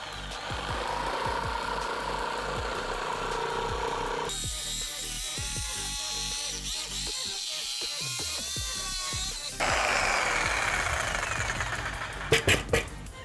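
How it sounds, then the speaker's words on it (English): A Bosch jigsaw fitted with a T144D blade cuts through wood, its rapid buzzing reciprocation changing pitch and load as the blade bites, eases, then bites again, ending with a few sharp clicks. "power up your jigsaw first and then bring it into contact with your wood."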